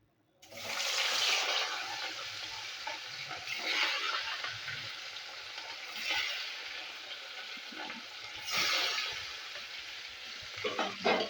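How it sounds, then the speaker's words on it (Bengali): Pieces of katla fish fry in hot mustard oil, a loud close sizzle that starts abruptly and swells in waves as the fish is turned and stirred. "মাছগুলো ভেজে নেবো"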